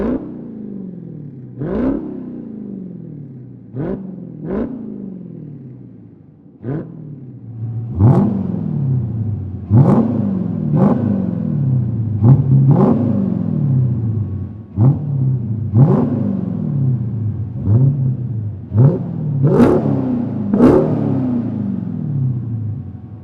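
A Dodge Charger Hellcat Redeye with a Magnaflow Competition Series exhaust roars past repeatedly, about a dozen sharp exhaust flybys, each swelling and falling away in pitch, some closer and louder than others.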